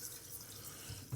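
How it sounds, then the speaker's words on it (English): Cold water runs steadily from a bathroom tap as an alum block is rinsed beneath it, a close, continuous splashing hiss with a brief thicker gush at the end. "just take the Alum Block, run it underneath the cold water"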